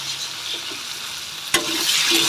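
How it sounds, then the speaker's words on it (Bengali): Cut potatoes sizzle steadily as they fry in a pan with salt, a continuous hiss with one sharp scrape or stir partway through, close and without talk. "ভাজি করে নেব লবণ দিয়ে দেবো আলুটার মধ্যে"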